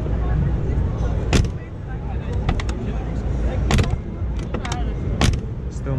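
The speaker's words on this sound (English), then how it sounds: "so let's close the trunk" Tailgate of a Mercedes-Benz G63 AMG shutting on the Geneva Motor Show 2018 floor: a handful of sharp thumps and latch clicks spaced over several seconds, set against constant busy hall noise with voices talking.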